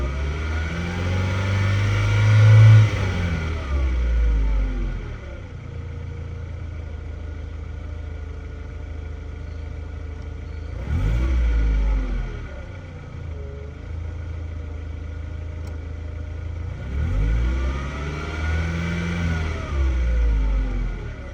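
A 2002 Mercedes-Benz MB 100 camper van engine revved three times from idle, each rev rising and falling in pitch over a few seconds, separated by steady idling, close and loud with no talking.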